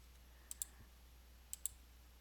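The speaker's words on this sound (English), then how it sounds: "if I right click and go to properties" Two quick pairs of sharp computer mouse clicks about a second apart, crisp and close against a faint steady background hum, with no voices.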